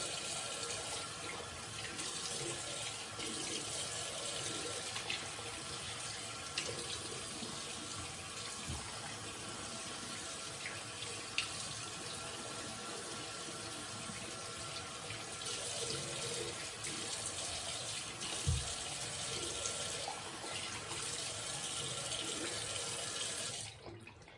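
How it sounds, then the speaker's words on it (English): Running tap water pours steadily into a sink as a man rinses his face after shaving, a continuous hissing splash with occasional small splashes and no talk. "The man is rinsing, it's taking forever."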